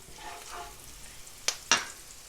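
Chopped garlic and fresh thyme dropped onto softened onions and carrots frying in a pan: a soft ongoing sizzle punctuated by two sharp clattering hits close by, with no voices.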